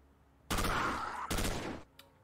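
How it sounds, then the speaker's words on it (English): Two sustained bursts of rapid automatic gunfire in a video game, loud and close, each lasting under a second, followed by a faint single shot. "Good shooting, soldier."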